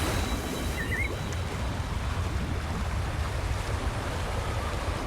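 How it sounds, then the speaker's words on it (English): Steady roaring waterfall in the video game Wuthering Waves, a continuous broadband rush of falling water filling the whole clip at even loudness with no voices. "That's a really big waterfall."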